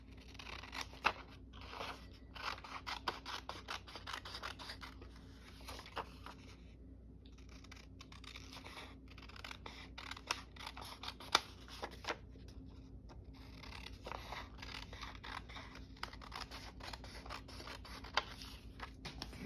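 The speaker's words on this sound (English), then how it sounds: "Let's cut once, cut precisely once." Scissors trimming paper for a round-robin craft project, a steady run of small crisp snips and rustles close to the mic, with a brief pause before the cutting resumes.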